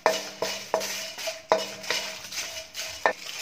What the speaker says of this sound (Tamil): மணம் வர்ற வரைக்கும் வறுத்துக்கலாம்